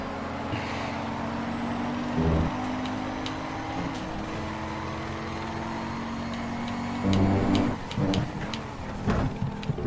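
A car engine in an Xbox 360 racing game drones steadily, rising and falling with the revs and shifting in pitch, with occasional sharp clicks and bumps layered on top.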